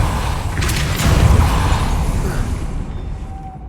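Depulso spell cast in Hogwarts Legacy: a deep, rumbling magical burst that swells over the first second and a half, then fades into a lingering low wash.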